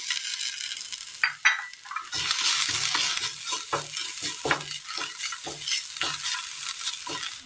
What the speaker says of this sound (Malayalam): ഇതിലേക്ക് ഒരു 3 വെളുത്തുള്ളി അരിഞ്ഞതും ഒരു ചെറിയൊരു കഷ്ണം ഇഞ്ചി അരിഞ്ഞതും കൂടി ഇട്ട് കൊടുക്കാം.